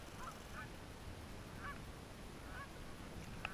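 Several short honking calls from a swan on freshwater, faint and distant over steady outdoor background noise, no talk.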